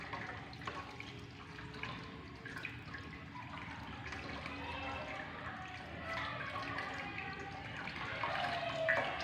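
Running tap water pours steadily while hands are rinsed under it, a continuous splashing wash with small drips and rising surges, fairly faint and without talk.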